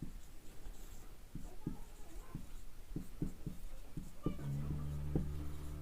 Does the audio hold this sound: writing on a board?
yes